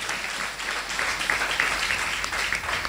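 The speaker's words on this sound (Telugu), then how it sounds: "గట్టిగా చప్పట్లు కొడదాం ప్రియులారా" An audience at a church women's jubilee celebration applauds steadily, a dense wash of many hands clapping at moderate distance without pause.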